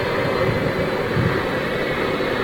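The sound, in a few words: Jet2 Boeing 757 with Rolls-Royce RB211 jet engines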